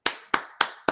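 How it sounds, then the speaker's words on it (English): Hands clap four times, crisp and close, in an even, unhurried rhythm with brief gaps of silence between claps. "Clap. Very good."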